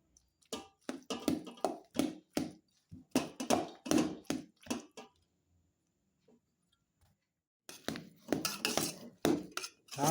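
Cooked rice is stirred with cooked jamun fruit in a metal vessel, giving bursts of quick clinking and scraping strokes, then a brief pause before the rapid stirring clatter resumes.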